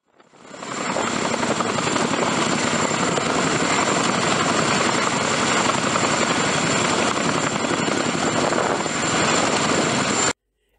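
A CH-47 Chinook military helicopter, a heavy-lift aircraft first fielded in the Vietnam War and upgraded over the years, produces a steady, loud rotor roar that fills the whole stretch and then cuts off abruptly at the end.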